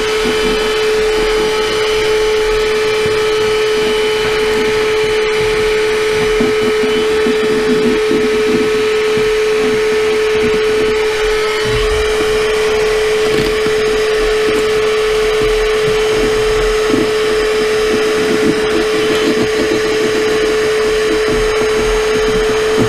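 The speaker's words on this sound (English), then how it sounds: "get a vacuum cleaner, clean all this up" A vacuum cleaner drones steadily and loudly throughout, a constant motor whine with a strong steady hum and no pauses.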